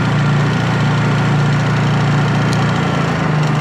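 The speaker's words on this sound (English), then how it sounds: "You can hear the generator power down. Off. Fires right back up to a full RPM." Honda generator running steadily at full RPM with the eco throttle on, a continuous close engine hum with a low droning tone and no voices.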